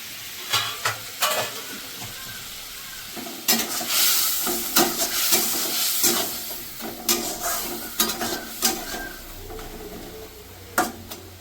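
Cumin paste, ginger paste, salt and turmeric sizzle and fry in a pan while a spoon stirs and scrapes in repeated sharp strokes, loud and close, with no talking.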